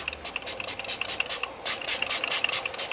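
Quick hissing spritzes from a spray bottle wetting a watercolour paint palette, several short bursts in a row, close up and fairly soft, with no voices.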